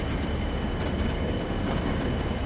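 Class 40/1 diesel locomotive hauling a loaded heavy oil freight train in Train Sim World 3, a steady, loud rumbling drone of engine and rolling wagons that runs unbroken throughout with no speech.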